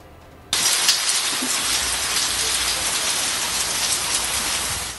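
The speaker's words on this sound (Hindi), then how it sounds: "रावलपिंडी और इस्लामाबाद में बारिश और ओले खूब जमकर गिरे।" Heavy rain, with hail reported, pouring down in Rawalpindi and Islamabad, Pakistan, a dense, loud, steady hiss that starts abruptly and stays constant, with no voices.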